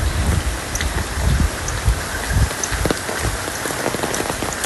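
Heavy rain drumming on an umbrella while walking to school in a downpour, a close, continuous patter with low thumps of drops hitting the canopy and no voices.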